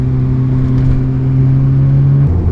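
A car engine idling close up, a steady loud hum that holds even and then drops in pitch near the end, with no one speaking.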